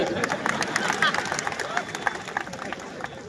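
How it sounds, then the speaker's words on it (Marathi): Audience applause at a political election rally, a dense wash of many hands clapping together with crowd murmur and babble underneath, steady and fairly close throughout. "त्यावेळी उपस्थित नागरिकांनी टाळ्या वाजून दाद दिली"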